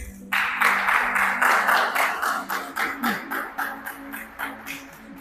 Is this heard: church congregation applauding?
yes